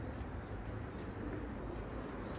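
Pigeons coo in a low, soft, repeating murmur, faint and somewhat distant, over a steady background hiss with no talk.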